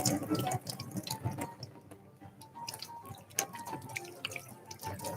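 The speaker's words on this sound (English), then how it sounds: "First, you wet your hands." Water runs from a tap into a sink while hands are wetted, a steady close splashing with small drips throughout and no talk.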